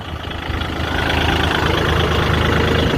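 A Kubota L4018 tractor ploughs in second gear, its engine a steady, loud, low drone that swells slightly over the first second and then holds even, with no voices.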